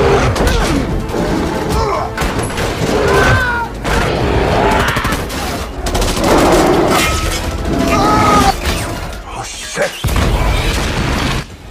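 Explosions and gunfire tear through an airplane cabin in the 2018 film Rampage, a loud, dense mix of booms, crashes and rapid shots that stays full and continuous, with a brief drop near the end before the chaos resumes.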